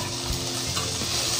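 Sliced onions and turkey berries fry and sizzle in a pan as they are stirred, a brief, steady crackle with faint scraping up close.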